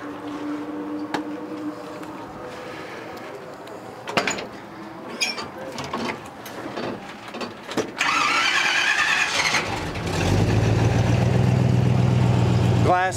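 A food truck's engine with glass pack mufflers cranks and fires up after talk and shuffling, catching around the midpoint and settling into a loud, steady low rumble that continues to the end.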